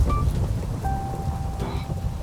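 Steady rain falls at a drilling site, a dense low rumbling wash with a faint distant rumble like thunder, continuous and fairly loud with no voices.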